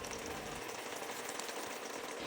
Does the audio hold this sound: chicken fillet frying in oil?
yes